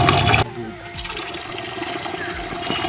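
Rose water poured in for biryani sounds like a brief, close burst of splashing liquid that stops after about half a second, leaving a quiet, watery background.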